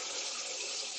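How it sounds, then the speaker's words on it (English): Tap water runs in a steady, close rush while a British white cabbage is given a quick rinse at the sink. "I'm just going to give it a quick rinse."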